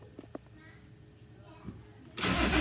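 After a few faint clicks, a BMW M57 diesel engine in a Land Rover Defender fires up with a sudden loud burst and settles into a rough, close running roar for the last half second.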